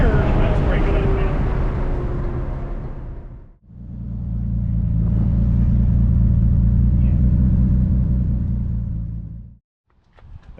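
Chevrolet Camaro engine under boost, a loud close rumbling roar in two long sustained pulls separated by a brief drop, with a rough uneven texture as the engine breaks up.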